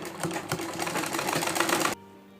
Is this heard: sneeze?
no